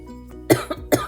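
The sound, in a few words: cough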